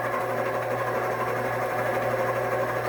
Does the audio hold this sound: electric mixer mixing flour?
yes